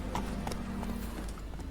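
Hooves of Roach, the horse in The Witcher 3, clop in a quick, even rhythm, fairly close and clear, with no talking over them.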